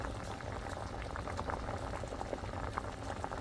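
Black sweet rice boils in a pot, giving a steady, quiet bubbling and gurgling of liquid at close range with no talking.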